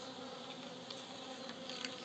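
A steady, close buzz of stingless bees with several overlapping small wings droning continuously, no voices.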